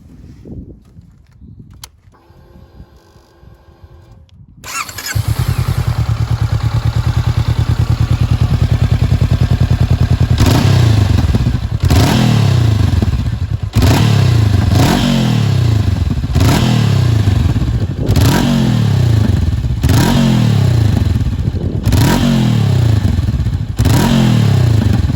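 Honda CB500 Hornet motorcycle engine fires up after a quiet start, idles loudly, then is revved repeatedly in sharp, regular bursts, each blip rising and falling close by with no talking.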